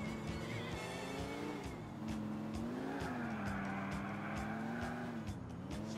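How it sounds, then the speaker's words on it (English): Car tires skid and squeal in GTA IV over a steady engine drone. A long wavering tonal screech holds throughout, loud and alone with no talk. "Nice little skid."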